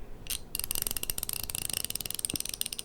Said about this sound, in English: know that sound and know that is a good quality ratchet